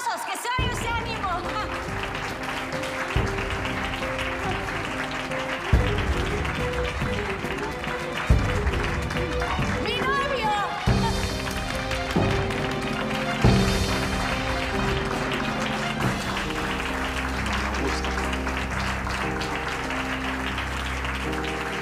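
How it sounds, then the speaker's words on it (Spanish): A crowd applauds and cheers after a young man is introduced as a girlfriend's new boyfriend, the clapping buried under loud music with steady beats and a bass line that dominates throughout. "¡Aplausos!"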